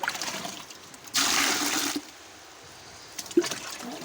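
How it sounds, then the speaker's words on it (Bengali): Water scooped with a mug and poured on a cattle farm while preparing feed for a bull: one short splashing pour, then quieter trickles and a small clunk, close by with no talk. "পানি নিচ্ছি 2 মগ"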